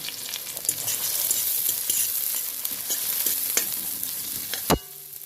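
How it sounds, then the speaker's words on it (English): Pepper, tomato and onion sauteing in a pot, a bright continuous sizzle with repeated stirring scrapes and a sharp clank near the end, close and without talk. "pepper, tomato and onion. One saute, as they call it."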